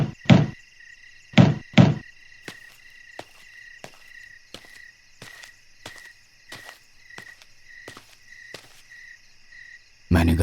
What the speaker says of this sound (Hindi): तभी कोई घर का दरवाजा खटखटाने लगा।